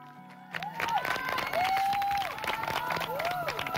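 Studio audience applauds at a Thai televised singing competition results show, a dense burst of clapping and crowd noise building after a short pause, with sustained musical tones and a voice over it.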